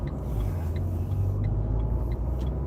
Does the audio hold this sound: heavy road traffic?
yes